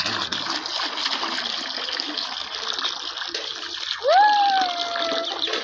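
Ducklings splash about in bath water, giving a steady wash of splashing and sloshing with a short, high, rising peep near the end.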